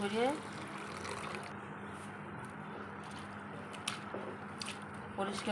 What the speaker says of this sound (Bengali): চিড়ে দিয়ে আর জল দিয়ে ভালো করে কসলাই ধুয়ে নিতে হবে